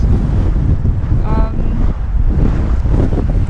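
Strong wind blasts across the microphone over the rumble of large crashing waves at a beach on Tenerife, loud and continuous, with a brief tonal squeal partway through.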